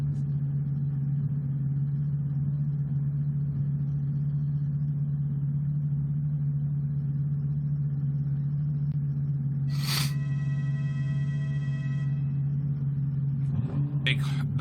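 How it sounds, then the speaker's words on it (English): An air horn sounds at the start of a Lotus Cup Europe motor race at the Zolder circuit, a single sustained blast of about two seconds over a steady engine rumble and commentary. "That big old air horn"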